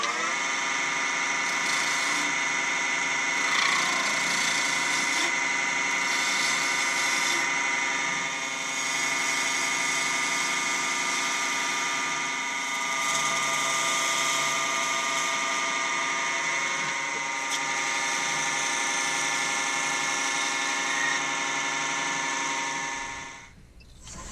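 A woodturning lathe spins a wooden pear while a tool cuts a small dimple into its end, giving a steady, loud motor whine that holds for over twenty seconds before winding down.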